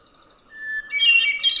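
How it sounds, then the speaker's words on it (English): A recorded hermit thrush song plays back, a clear whistled tone sliding into a bright flurry of rising, fluty notes, close and alone with no talking. "like the hermit thrush, a famous bird song"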